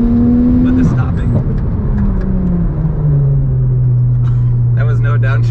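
A turbocharged 800hp Porsche GT3 Cup race car converted for street use accelerates hard, its engine note rising with a gear change, loud and close from inside the cabin, with people talking over it.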